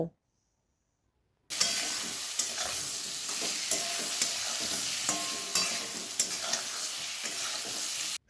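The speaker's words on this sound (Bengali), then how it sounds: "সেগুলোকেও ভালোভাবে খুন্তি দিয়ে নেড়ে চেড়ে মিশিয়ে নেব" A spatula stirs turmeric powder and vegetables through a sizzling pan after a short silent start, with steady frying hiss and small clinks throughout.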